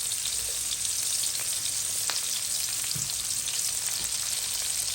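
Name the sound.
onion and green chili frying in oil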